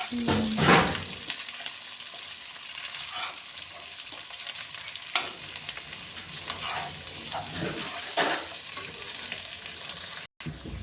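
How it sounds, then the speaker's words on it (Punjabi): Namkeen sizzles steadily in hot tempering oil for a Punjabi snack, a dense crackling hiss with occasional stirring scrapes and clinks, close and alone without any talk. "ਆਪਾਂ ਹੁਣ ਤੜਕੇ 'ਚ ਪਕਾਉਣਾ ਇਹਨਾਂ ਨੂੰ ਥੋੜਾ ਜਿਹਾ"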